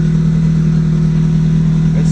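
A Subaru GC8 engine idling steadily around 1500 rpm during cold start tuning, a loud, even, low droning hum with a constant rhythmic pulse, close by and unbroken.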